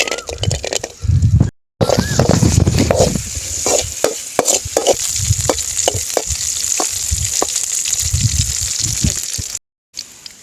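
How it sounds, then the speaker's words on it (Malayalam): Raisins frying in hot ghee for a sweet Kerala sukhiyan, a steady close sizzle with stirring scrapes and clinks through most of the stretch, broken by two brief silent gaps. "നമുക്ക് ആദ്യം ഒന്ന് മുന്തിരി ഒന്ന് വറുത്തെടുക്കാം."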